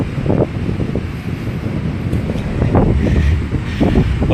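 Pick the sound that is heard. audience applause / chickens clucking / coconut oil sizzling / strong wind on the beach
strong wind on the beach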